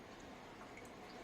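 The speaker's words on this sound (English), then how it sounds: "and when it drips down, it takes in a lot of oxygen with it to the tank" Water from an aquarium airlift drips down into a shrimp tank below, giving a steady, faint wash of trickling water with soft droplet ticks and no voices.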